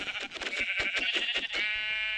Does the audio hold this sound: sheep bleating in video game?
yes